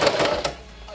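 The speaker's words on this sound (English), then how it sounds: "I just need to sew in the sides a little bit and then it will be perfect" A sewing machine runs briefly while stitching the sides of fabric, a short close mechanical whirring burst that quickly winds down.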